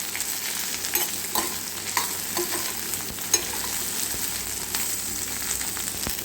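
Sliced green chillies sautéing in a pan give a steady close sizzle, broken by scattered clicks and scrapes of stirring, with no voices.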